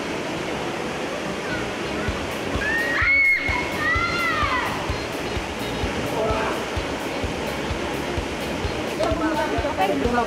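Waterfall at a cave in Cagayan, Philippines, a steady loud rush of falling water throughout, with brief voices and a splash briefly rising over the roar.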